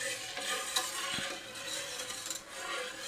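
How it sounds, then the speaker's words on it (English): A spoon stirs a coconut cream filling in a pot on the stove, making a close, continuous scraping swish with a faint sizzle underneath and one brief knock. "So you're just constantly stirring this."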